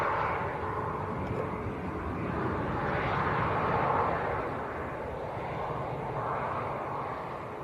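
A Ryanair airliner bound for Almeria lifts off at Manchester Airport, its engines a steady, loud broadband roar that swells slightly as it climbs, heard alone.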